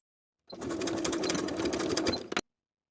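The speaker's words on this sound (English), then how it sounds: "I'll place the short ends of the elastic right sides together and sew with a 1/4 inch seam allowance." A sewing machine stitches the short ends of elastic together with a quarter-inch seam, running in one steady, close burst of rapid needle chatter for about two seconds, alone.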